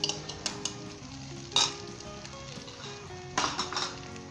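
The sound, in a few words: stirring beaten eggs frying with masala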